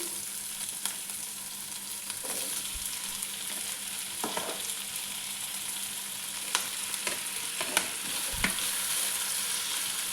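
Tomatoes frying with onions, garlic, pepper, cumin and curry leaves in a pan for fish curry, giving a constant close sizzle with occasional scrapes and taps of a stirring spoon, no voices.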